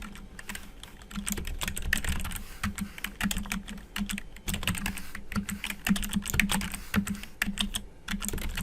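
Steady typing on a computer keyboard, a continuous clatter of light key taps at a fast, uneven pace, close and moderately loud with no talking.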